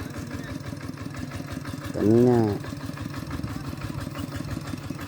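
A farm tractor engine idles steadily with an even low chugging throughout, at a rural village farm where cassava is processed; a voice speaks briefly over it midway.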